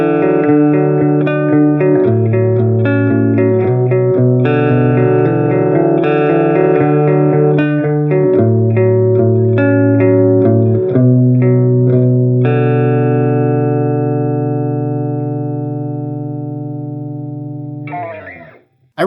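Electric guitar run through a Blind Panic Devices Reactor fuzz pedal into a JMP 2203 amp plugin, loud saturated chords strummed in rhythm, ending on a long sustained chord that fades out before a brief noisy burst.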